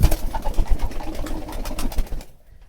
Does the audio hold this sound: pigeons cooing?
yes